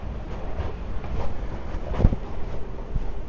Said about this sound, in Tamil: மெட்ரோ வந்துருச்சு.